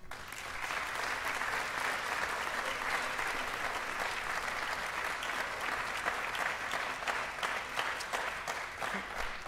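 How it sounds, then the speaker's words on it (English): An audience at a school awards ceremony honoring teachers of the year breaks into sustained applause, dense and even clapping that swells in quickly and carries on for about nine seconds at moderate volume. "Please give all of them a round of applause."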